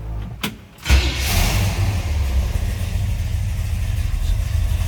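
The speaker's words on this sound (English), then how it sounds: "Let's go ahead and fire it up. You can hear this thing run." A 1967 Chevrolet C10 shortbox pickup engine cranks briefly and fires up, then settles into a steady, close, fairly loud idle with no talking.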